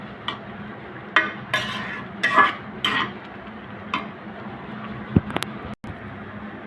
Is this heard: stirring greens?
yes